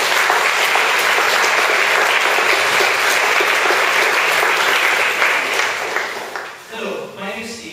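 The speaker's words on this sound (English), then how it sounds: "please can you give a big round of applause for all our volunteers" A big round of applause for volunteers fills the room loudly and steadily from the audience, a dense wash of clapping that tapers off near the end as a voice begins.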